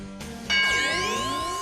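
A game show bell rings once in a live catchphrase quiz, a bright ding struck about half a second in that swells loud and then decays slowly with a long shimmering ring, following a short tone.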